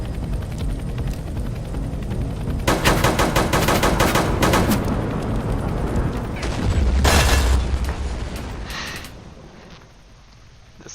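Gunfire from a pair of short-nosed revolvers in the Wild West video game Vampire Hunters 3: a dense run of loud, rapid shots that starts around the three-second mark, with a second heavy burst a little later, all over a constant rumbling game background.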